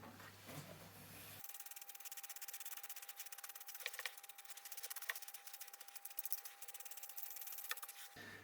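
Wet sanding navy blue paint on a custom instrument cover for a Mazda MX5 Miata, a faint steady rubbing hiss with rhythmic scrubbing strokes, close and quiet.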